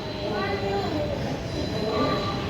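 An underground metro train in Mumbai rumbles steadily, with rising and falling whine tones and faint wheel squeal, while people talk nearby.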